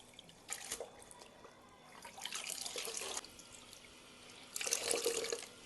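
A dupatta is washed and sloshed by hand in cold water, giving several bursts of splashing and running water separated by quieter dripping pauses.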